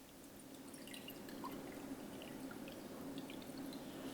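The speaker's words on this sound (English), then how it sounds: "I'm going to put some cold water in there." Cold water trickles and drips quietly into a cup sitting on a heat pad, a faint steady liquid stream with scattered small splashes.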